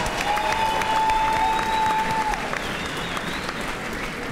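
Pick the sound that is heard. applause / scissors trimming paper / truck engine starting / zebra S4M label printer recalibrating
applause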